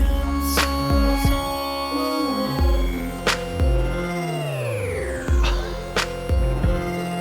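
Smoothed sine-wave synthesizer tones with sweeping, wavering pitch glide up and down over deep pulsing bass hits that repeat roughly every second.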